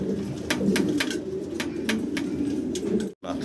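Fancy pigeons in a dealer's loft coo steadily, a dense low murmur of many birds close by, with sharp flutters or clicks breaking through now and then before a brief drop near the end.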